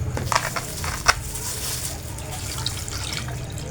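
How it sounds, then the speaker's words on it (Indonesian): Grated coconut squeezed by hand over a strainer while making Sundanese dodol, with liquid running and dripping steadily into a container below, a few louder wet splashes near the start. "Dan ini kita peras kelapanya."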